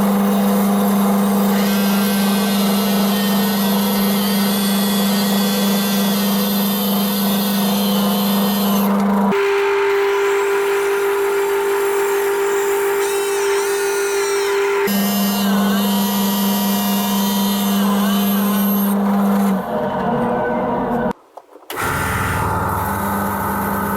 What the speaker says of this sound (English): we'll go to the bandsaw and we'll get them all cut.